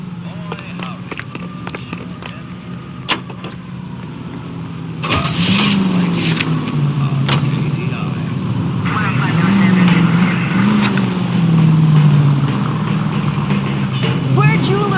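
A 1940s-style car is driven through Los Angeles in the detective game L.A. Noire, its engine humming steadily and rising in pitch as it accelerates. Tire and road noise runs underneath, with people talking over it.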